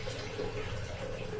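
Water pouring steadily into an LG top-loading washing machine during a tub-clean cycle, a continuous rushing hiss with a low rumble, close and unbroken.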